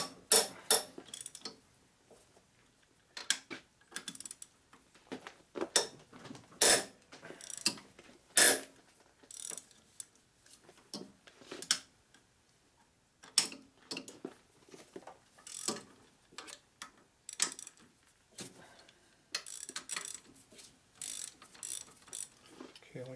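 Long ratchet cranking loose the bolts on a rebuilt 2001 Gilroy Indian Chief motorcycle engine, a steady run of close, sharp ratcheting clicks in quick bursts with short pauses.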